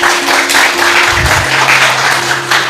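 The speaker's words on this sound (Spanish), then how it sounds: "Dale un aplauso a Jesús." Church congregation applauding during a sermon, a loud, continuous crowd clapping with a low sustained tone and a brief thump underneath.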